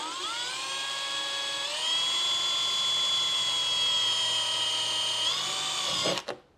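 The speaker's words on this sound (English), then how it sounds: "I'm going reverse drill bit." A power drill with its bit run in reverse whines steadily at a high pitch while drilling into a RIMOWA Classic Cabin carry-on, stepping up in speed partway through, then cuts out abruptly with a brief clunk at the end.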